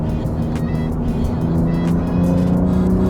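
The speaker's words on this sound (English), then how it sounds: "Now, Alfa Giulia on the track. So I've put it into race mode, which tightens everything up" A 2025 Alfa Romeo Giulia Quadrifoglio with an 8-speed gearbox drives on a track in race mode, its engine a loud, continuous droning hum heard from inside the car.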